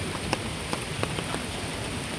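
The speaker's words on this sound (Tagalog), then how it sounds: "mabasa ka ng ulan." Rain pours down steadily outdoors near a park, a dense, even hiss with a few sharper drop taps scattered through it and no voices.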